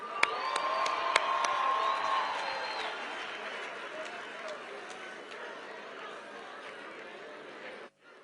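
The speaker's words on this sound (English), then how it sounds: "Can we give them a big round of applause?" A large crowd at South Africa's 30th anniversary of freedom celebration bursts into loud, sustained cheering and applause with whoops and sharp claps near the start, then the roar gradually eases before cutting off abruptly.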